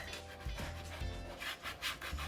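A credit card rubs a vinyl stencil transfer down onto a surface, making repeated close, scratchy rubbing strokes in an irregular rhythm with no talk.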